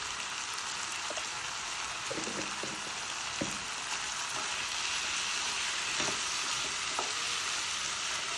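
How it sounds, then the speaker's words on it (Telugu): Pumpkin curry with coriander powder and spices sizzling steadily in a pan while it is stirred, with occasional soft scrapes and clicks of the spoon over the continuous frying hiss. "దీంతో మొత్తం కలిసేలా ఒకసారి కలుపుతున్నాను"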